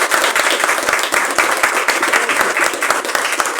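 An audience gives steady, lively applause at a book presentation, a room full of hands clapping loud and close for several seconds without a break.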